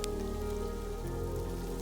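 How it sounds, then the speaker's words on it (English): Sleet pelting a car in a February winter storm in Palestine, Texas, a steady dense patter of icy pellets close by, continuous and unbroken with no voices. "You can see all the sleet bouncing off."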